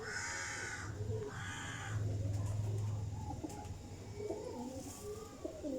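High-flying pigeons coo in low repeated bursts, joined by a few sharper calls, all outdoors under a constant background hiss.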